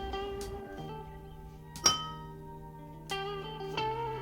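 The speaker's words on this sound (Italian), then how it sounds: "Sto finendo di pulire i bicchieri e la vetrinetta." Drinking glasses clink against each other while being cleaned along with a glass display cabinet, three or four bright ringing chinks with lingering tones over a quiet background, and no voices.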